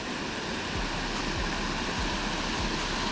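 Steady broadband rush of a waterfall pouring into the water at a bass fishing spot, constant and fairly loud throughout with no voices.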